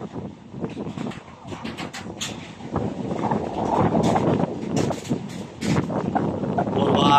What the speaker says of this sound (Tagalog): Sobrang lakas ng hangin dito.